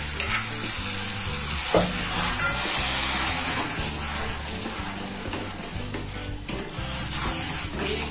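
Cooked rice, two cups simmered in milk, stirred into a pot of milk for Marathi rice kheer: a steady wet scraping and bubbling churn, close and continuous, with no voices.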